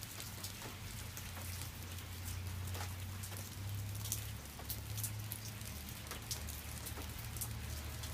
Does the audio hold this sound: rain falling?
yes